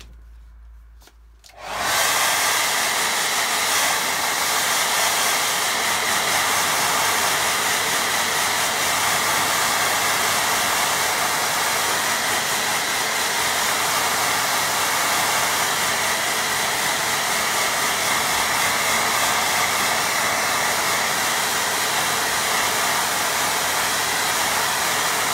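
A hair dryer blows steadily on a watercolour painting of a large lake, a loud, close and continuous whooshing roar that starts abruptly and runs without a break.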